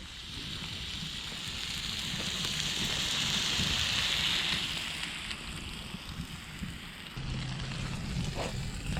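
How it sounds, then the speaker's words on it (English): Steady rain patters and hisses continuously outdoors over a campfire used for cooking, soft and even, with a faint crackle now and then and no voices. "it's just started raining."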